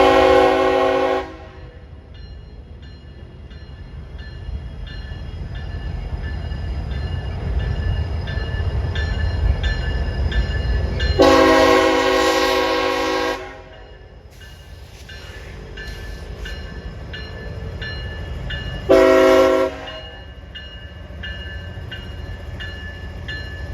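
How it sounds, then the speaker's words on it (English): CSXT manifest freight train M457 pulling into Taft Yard in Orlando, Florida: a loud horn blast at the start, a long blast near the middle and a short one later, all over a continuous low rumble of rolling cars. "here is CSXT M457 pulling into Taft Yard"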